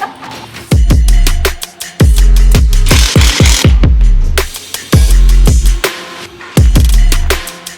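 A Lamborghini Huracán EVO fitted with a Valvetronic exhaust roars close and very loud through a series of sharp throttle blips and revs, each rising and falling in quick succession.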